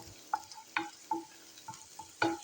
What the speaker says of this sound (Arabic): حطينا البصلة دقيقة، نحط فوقها سنين توم